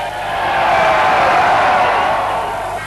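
Adelaide football fans roar together as a big, sustained crowd cheer, swelling and fading over a few seconds with no clear voices on top.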